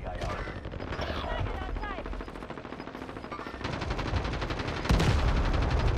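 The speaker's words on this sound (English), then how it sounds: "That's not us shooting, right?" Rapid automatic gunfire and bursts of shots ring out in the video game Warzone during a Godzilla versus King Kong live event, continuous and fairly close, with a player talking over the shooting.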